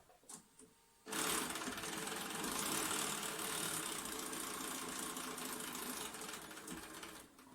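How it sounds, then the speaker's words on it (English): A sewing machine stitches the final seam of a paper-pieced quilt block, a steady fast mechanical whir that starts abruptly after a brief pause and runs continuously, close and clear. "So now I'm ready to sew that last section."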